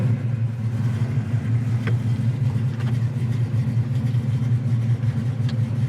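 A 1972 Chevy Nova with a big-block engine cruising along, its deep, steady engine drone rumbling continuously and fairly loud from start to finish with no talk over it.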